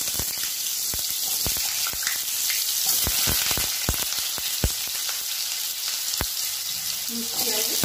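Panch phoron spices crackle and sizzle in hot oil, a continuous bright frying hiss punctuated by sharp pops and spits at irregular intervals.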